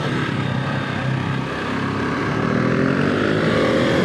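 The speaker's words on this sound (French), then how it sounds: "ce moteur il est incroyablement dynamique, incroyablement plein, surtout pour un monocylindre" A KTM 690 single-cylinder motorcycle engine runs at a steady, loud, continuous drone while riding, with no voices over it.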